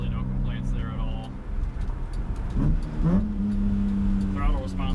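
A 1988 BMW E30 M3 fitted with an S54 engine and factory 15-inch wheels, heard from inside while driving: a steady engine drone with tonal hum that dips and climbs as revs change, partly under someone talking.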